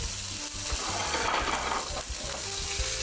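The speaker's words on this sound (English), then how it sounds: "Needs to be runny. Sizzling." An egg sizzles in a hot pan, a steady close crackle and hiss with dense popping spatter, heard alone at an even level throughout.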